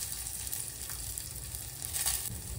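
Curry leaves, garlic and chilli frying in hot oil, an even hissing sizzle close by with a slight watery crackle and faint stirring, no speech.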